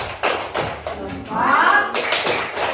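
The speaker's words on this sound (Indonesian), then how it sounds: "Ya, tepuk jempol." A class of children does a rhythmic 'tepuk jempol' clapping routine, sharp close claps falling in short patterned bursts, with children's voices chanting along between and over the beats.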